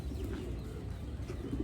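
A pigeon coos amid steady broadband noise, with low muffled cooing that barely rises above the background.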